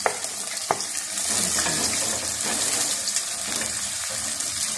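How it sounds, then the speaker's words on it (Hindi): Onions frying in a pan with spices, a steady hiss and crackle of sizzling oil after a few opening clinks, close and fairly loud, with no talk. "अब मैं प्याज डालने लगी हूँ।"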